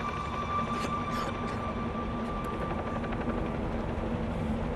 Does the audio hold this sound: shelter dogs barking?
no